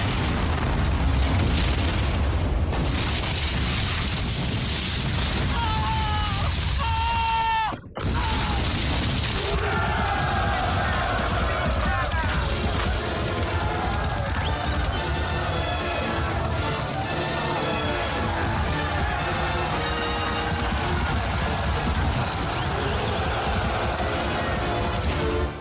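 Gunfire and heavy explosions in a war film, loud booming blasts and rumbling with a sharp cut near the middle, crackling continuing under faint voices.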